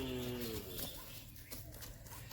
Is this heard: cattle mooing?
yes